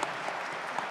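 A studio audience gives brief, steady applause at a talk show, a soft, even patter of many hands at moderate distance with no break.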